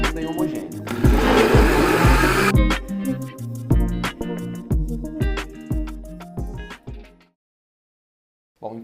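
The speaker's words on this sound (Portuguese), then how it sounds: "enquanto está batendo o nosso creme no liquidificador" A kitchen blender whips cake batter cream in a baking class, a loud whirring roar starting abruptly and running under a clattering, knocking texture before cutting off to near silence.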